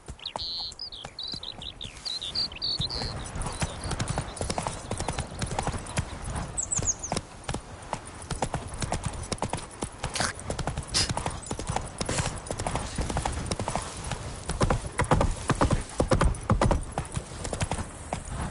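Horse hooves clip-clopping steadily on the ground during riding in The Witcher 3: Wild Hunt, with a continuous rhythmic trot, light crickets and birds in the background.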